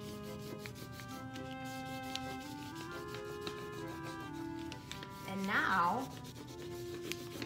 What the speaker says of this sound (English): rub it over to capture the texture of my leaf